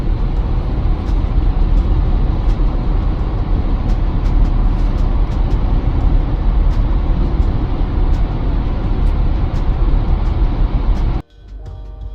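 A car cruising at speed on a freeway, heard from inside as a loud, steady broadband road and engine roar that holds unbroken for about eleven seconds before dropping away suddenly at the end.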